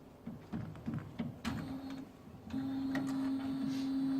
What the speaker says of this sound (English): we click Start to power on the top Epson printer